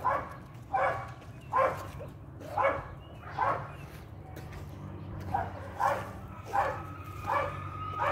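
A dog barks in short, regular bursts of two or three at a time across the stretch, moderately close, over a low steady rumble of background noise, with no talk.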